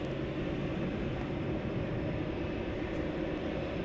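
A Turkish airliner departing for Istanbul at DFW airport at night, heard as a steady, distant, low jet engine rumble.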